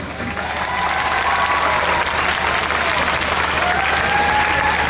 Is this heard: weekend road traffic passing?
no